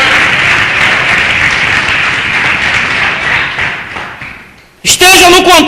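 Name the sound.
congregation applauding in church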